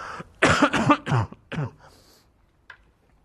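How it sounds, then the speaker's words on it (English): Someone clears their throat with several harsh, rasping bursts close by, then falls quiet apart from a small final sound. "excuse me while I clear my throat"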